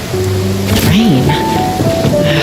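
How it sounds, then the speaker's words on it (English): Rain hisses and thunder rumbles in the game Genshin Impact, a continuous wet wash with low rolling booms under tonal game sounds and voice-like melodic lines. "Rain."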